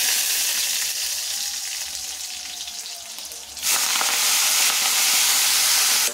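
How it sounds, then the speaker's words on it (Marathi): Fenugreek leaves (methi) with green chili frying in a pan, giving a steady bright sizzle and hiss that swells sharply louder partway through, close and without speech. "मेथी आपल्याला चांगल्या प्रकारे फ्राय करून घ्यायची आहे।"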